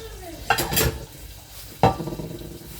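Tomato and garlic frying in a pan are stirred in two short bursts of scraping and clinking over a soft, continuous sizzle, close and fairly loud.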